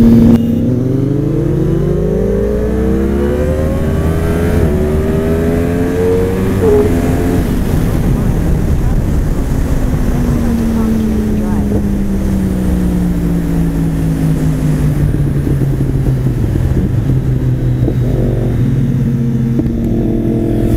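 Several motorcycles accelerating hard in second gear during a roll race at a motovlogger meetup in Borrego Springs: a loud, sustained engine roar rising steadily in pitch, overlapping engines, with rushing wind throughout.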